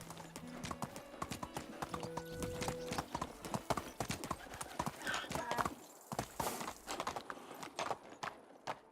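Horse hooves clip-clop in a steady rhythmic gait while riding in the game Medieval Dynasty, close and clear, with a brief pause near the end before the hoofbeats resume.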